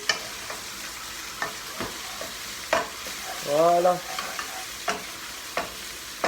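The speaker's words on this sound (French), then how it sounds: "vous faites cuire en fait vite fait le poulet, juste qu'il soit grillé à l'extérieur" Chicken sizzles softly in a frying pan while a utensil stirs and scrapes in short bursts; a brief voice speaks once midway.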